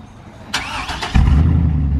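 A straight-piped truck engine cranks briefly with a whining starter, then catches and settles into a loud, deep rumbling idle close by.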